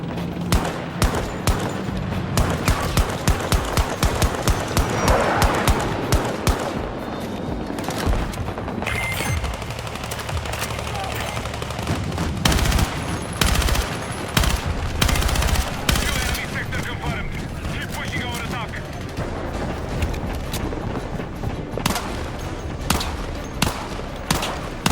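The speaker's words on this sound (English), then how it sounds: "I wanted to show a comparison of an M4 style weapon and a pistol" Rapid bursts of M4-style rifle fire and sharper single pistol shots from the Battlefield video game crack loudly and continuously, with a voice talking underneath.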